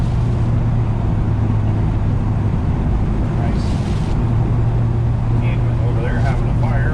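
A 1970 Chevrolet C10 truck cruises at about 40 mph around 1,800 RPM, its steady low engine drone and road rumble continuous throughout, with someone talking over it.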